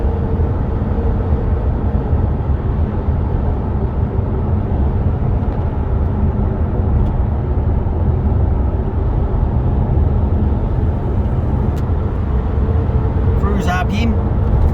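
A 2013 Toyota Hilux 2WD ute with a 3UZ V8 and six-speed automatic cruises at 100 km/h. A steady, low road-and-engine drone fills the cabin throughout, with a few faint clicks near the end.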